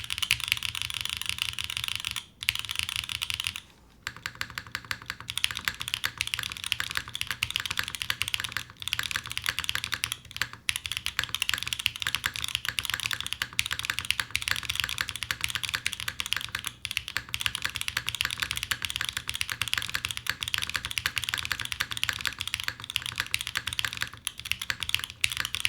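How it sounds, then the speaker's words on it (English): Steady, continuous typing on a Wind x98 mechanical keyboard with no foam, a polycarbonate top-mount case, Obscura switches and GMK keycaps, close and dense with brief pauses, no talking. "And this is no foam, PC top mount, and Obscura switches with GMK keycaps."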